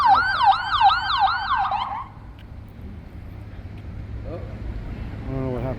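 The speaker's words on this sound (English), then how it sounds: "I bet you hear the sirens out here a lot." An emergency vehicle siren wails, sweeping up and down rapidly for about two seconds, then fades into Las Vegas street noise with faint voices and another distant siren rising at the end.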